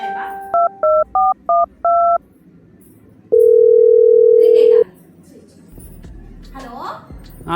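Telephone keypad tones sound in a quick run of five short beeps, followed by a single long steady tone, loud and clear, with faint background noise and a brief rise in sound near the end.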